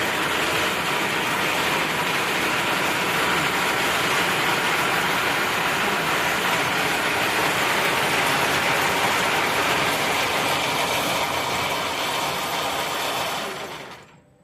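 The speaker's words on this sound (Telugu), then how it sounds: "మిషన్ ఆన్ చేస్తాం." A bangle-making machine runs with a dense, steady mechanical roar that stays loud and even for the whole stretch, then winds down quickly at the very end as it is switched off.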